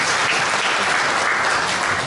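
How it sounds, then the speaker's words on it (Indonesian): Congregation at an evening Catholic adoration Mass clapping in steady, dense applause that fills the whole stretch at even loudness, with no talk over it. "tepuk tangan lagi semuanya."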